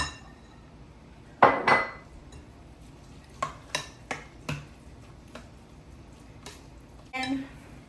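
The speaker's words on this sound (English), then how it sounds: "we're just going to dump the eggs in here, and I'm going to stir it up" Eggs stirred in a deep casserole dish for a breakfast casserole, heard as a spoon scraping and clinking against the dish in several short, separate bursts, close and moderately loud over a quiet room.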